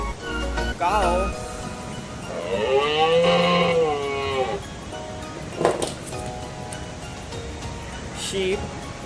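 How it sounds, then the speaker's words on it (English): A cow moos in a long low drawn-out call lasting a couple of seconds, heard among other farm-animal sounds and faint music, with brief clanks and knocks afterward. "Cow."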